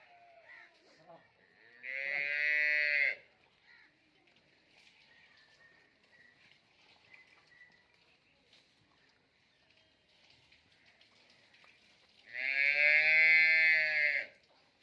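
A large crossbred dairy cow lets out two long, loud moos several seconds apart, with quiet outdoor background between calls.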